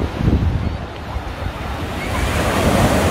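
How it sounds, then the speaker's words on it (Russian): Ocean surf rolls in at Waikiki beach, Hawaii, a steady broad wash of breaking waves with gusty wind buffeting the microphone, rising slightly toward the end. "Но здесь такая волна более живая как-то."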